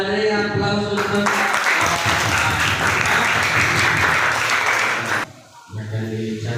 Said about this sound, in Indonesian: Dan kita beri aplaus untuk